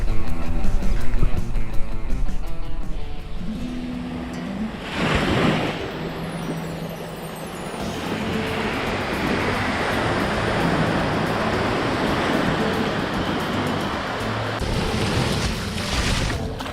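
Ocean surf breaks on a beach during an oyster festival, a broad roar of waves that starts mixed with passing outdoor sounds, then settles into a steady, fairly loud wash.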